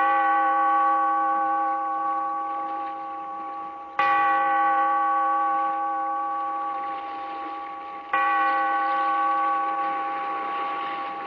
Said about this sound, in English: Bellkeeper, toll the bell, so that all may know we are gathered again